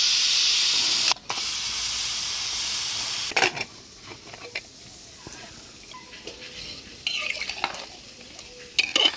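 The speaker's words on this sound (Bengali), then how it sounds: "এবার প্রেসার কুকারটা খুলে নেই, মাংসটা দেখি কেমন সিদ্ধ হয়েছে" Steam hisses loudly from a pressure cooker of mutton as it is opened in village-style home cooking. The hiss cuts off after about a second, followed by softer clinks and stirring sounds.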